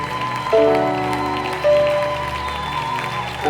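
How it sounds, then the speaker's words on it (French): Applause from the congregation at a prayer marathon, steady clapping spread through the room with sustained music-like tones beneath, no clear talk. "Applaudis très très bien pour le Seigneur des Seigneurs."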